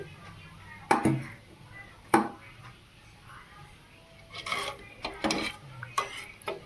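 Salt and water stirred together in a bowl, heard as a few sharp spoon clinks against the bowl followed by a run of quicker scraping stirs, close and fairly quiet.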